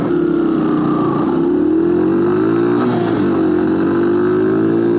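A small 125cc motorcycle engine hums steadily while riding, its pitch rising and dipping slightly as the throttle shifts, close and fairly loud.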